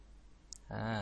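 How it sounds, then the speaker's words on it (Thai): Single sharp mouse click on a computer, pressing the send button in Gmail, quick and close, followed by speech. "เราก็มาคลิกที่ส่งเลยนะครับ"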